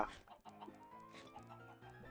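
Chickens clucking in Minecraft Bedrock Edition, a short run of quiet, pecking game-animal clucks repeating over a steady background of game music.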